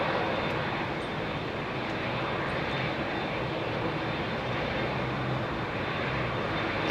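An airliner engine drones steadily on the ground at windy Heathrow Airport, with an Airbus A380 taxiing. The loud, continuous rumble carries broadband wind noise throughout.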